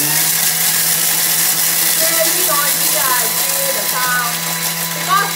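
A blender grinds dried anchovies into a seasoning powder at top speed, a loud continuous whirring drone with a steady hum beneath it, and faint rattling chatter from the contents.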